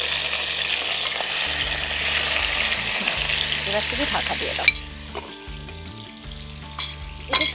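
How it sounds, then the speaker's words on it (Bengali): Fish for Bengali shukto fries hard in a pan, a loud, close sizzle that fades as stirring clatters and scrapes follow, with a voice speaking briefly over it. "একটু কড়া করে ভাজতে হবে তাই একদম খুব ভালো করে কড়া করে ভাজা হবে"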